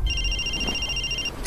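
A phone rings steadily in a fantasy drama scene, one continuous pure electronic tone held for over a second, close and clear over a low rumbling background.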